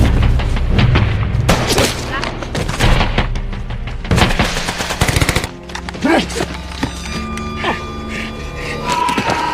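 Gunfire in a World War II jungle battle scene set in Papua, with heavy booms and rapid bursts through the first half, then quieter sustained tones. Voices run underneath.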